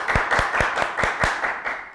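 Clapping from a talk-show audience, about nine even, evenly spaced claps in a steady rhythm over a soft background wash, fairly close and moderately loud, with no speech.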